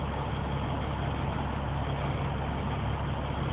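A dump truck's diesel engine idles at around 700 to 800 RPM while stopped at a traffic light, giving a steady low rumble that stays close and continuous with no talk over it.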